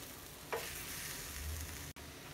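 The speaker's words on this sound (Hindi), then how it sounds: "इसको मिला लीजिए।" Khoa and grated coconut being stirred together in a pan for Holi gujiya, a soft steady scraping hiss with one brief louder scrape near the start, no talking.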